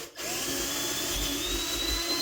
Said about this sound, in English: So I'm drilling the holes. Now remember, this is MDF, right?